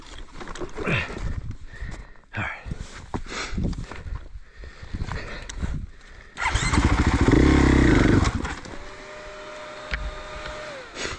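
An off-road motorcycle climbs a hard black-diamond trail at Georgetown OHV, the engine surging loud and close in bursts with steadier revving later, amid rattling and wind noise.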